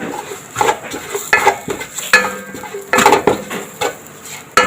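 Coriander, turmeric and garam masala powders are stirred in a pan for pidi with egg, with repeated scraping and clattering of a spoon against the metal pan over a soft sizzle, loud and close.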